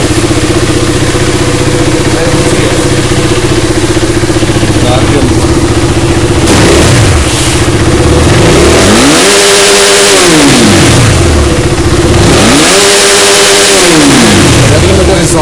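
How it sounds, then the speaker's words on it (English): A KTM Duke 390 motorcycle with an RD Powertronic tuning module starts and idles loudly up close, then revs hard twice in big rising-and-falling sweeps toward the limiter. "Starting the bike after fixing the Powertronics,"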